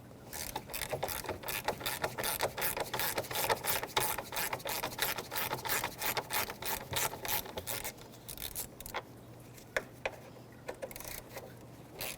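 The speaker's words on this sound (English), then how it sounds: "take the 3 bolts here connecting the shroud to the radiator, 10mm socket" Ratchet with a 10mm socket backing out radiator shroud bolts on a 2005-2021 Nissan Frontier 4.0L V6, rapid close clicking in bursts that slows and thins to scattered clicks near the end.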